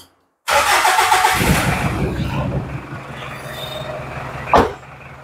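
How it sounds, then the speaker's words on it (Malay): A diesel car engine with a rotary fuel pump starts abruptly, cranking into a loud, rough idle that settles and fades slightly, followed by a brief sharp clatter near the end. "Kita akan start di kereta, tengok breeder dia macam mana di sini."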